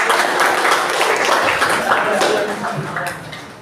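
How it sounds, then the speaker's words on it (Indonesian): A class of students claps together in a classroom, brisk and close for a few seconds before tapering off, with some voices mixed in. "kita kasih tepuk tangan dulu"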